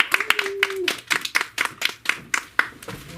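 A small audience at a dignified menstruation exhibit event claps for a performer, with sharp, uneven claps from a handful of people close by, loosely spaced rather than a continuous roar, and a brief voice near the start.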